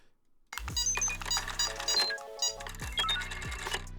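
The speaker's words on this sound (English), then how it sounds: "Turn it up! Turn the beeps up!" Electronic beeps and chimes from video editing playback, a bright rapid series of tones over low synthetic thumps, loud and busy after a short quiet start.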